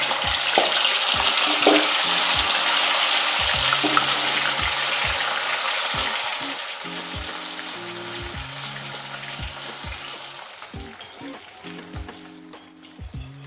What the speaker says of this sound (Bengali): সেটাকে আমরা এখন ভেজে নিচ্ছি